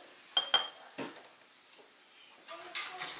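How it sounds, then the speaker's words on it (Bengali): Ground spices such as turmeric, cumin, coriander and chilli powder being stirred quickly in a pan, heard as a few scattered metallic scrapes and clinks of a spoon, with a faint sizzle at the end. "চট করে একটু নেড়ে নিই"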